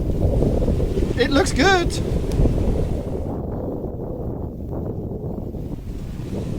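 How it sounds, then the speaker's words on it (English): Sailboat under way at sea on the Sea of Cortez, steady rushing wind and water noise buffeting the microphone, with a person speaking briefly over it and a few short high tones early on. "Now we can sail into the sunset."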